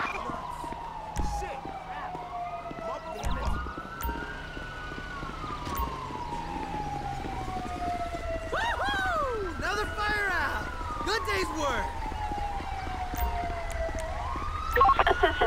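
Wailing ambulance and police sirens in GTA 5 sweep up and down in long arcs, fairly loud and continuous over a busy background with occasional short bursts of noise.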